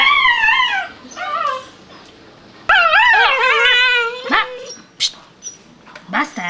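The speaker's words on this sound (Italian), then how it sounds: "Che bel cane." A Czechoslovakian wolfdog gives high, wavering whimpers and yips with a few sharp barks in between, loud and close, in quick expressive bursts.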